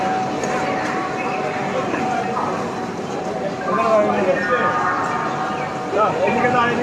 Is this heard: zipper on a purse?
no